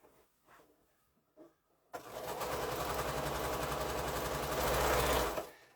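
A sewing machine stitches a long seam down quilt strips, starting abruptly after a few quiet handling sounds and running as a fast, steady, close mechanical whir for about four seconds before stopping.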